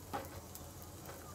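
Potato roti roasting on a hot pan over medium flame, a faint steady sizzle with a couple of soft crackles, quiet and close with no talking.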